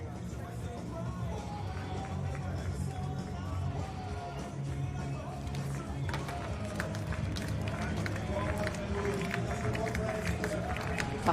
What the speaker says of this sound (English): Tapping in the crowd